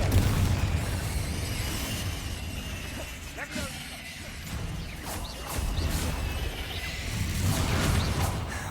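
Confringo spell blasts in Hogwarts Legacy, with booming explosive bursts, whooshes and shattering crashes layered over a dense, continuous combat din, while a voice speaks in the clip.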